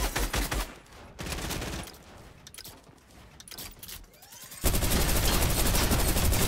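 Rapid, sustained minigun fire in the video game Fortnite: dense, continuous bursts that start, fade under other game sounds and then return loud and unbroken near the end.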